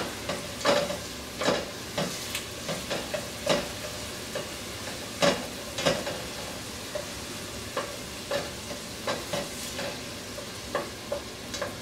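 Onions and garlic fry in olive oil in a pan, a steady sizzle broken by rhythmic stirring scrapes repeating roughly every second, up close.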